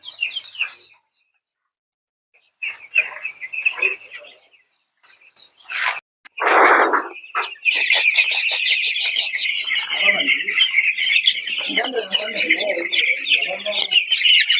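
Chickens chirp and cluck in bursts at a poultry farm, with rapid repeated peeping from chicks growing steady toward the end, close by.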